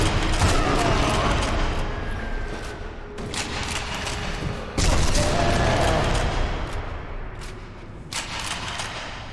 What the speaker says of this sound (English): The shouts of enemy soldiers, gunfire, footsteps, just everything blended together in a sort of violent harmony.